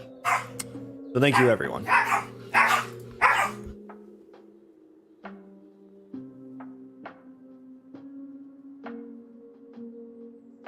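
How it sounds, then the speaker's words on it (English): Several pet dogs bark in loud, close bursts at the start, then fall quiet behind faint clicks while a person speaks over them. "My dogs are freaking out."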